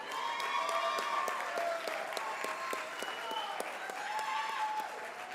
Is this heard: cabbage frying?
no